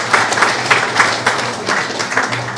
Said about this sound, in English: yes, you can clap for them.